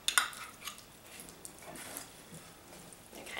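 Faint scraping and clinking as pre-sautéed onions are stirred into funeral potatoes in a Dutch oven at a camp kitchen, with soft irregular clatters and squishy stirring noises, a slightly sharper knock at the start.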